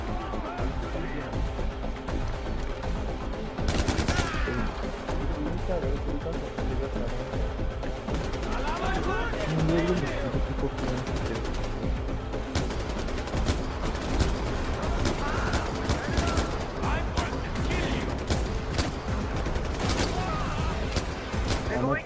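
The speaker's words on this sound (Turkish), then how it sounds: "Şurada biri bana sıkıyor." Enemy gunfire in the video game Far Cry 4, with sustained bursts of shots and rattling mechanical clatter over a dense, continuous battle din while someone talks.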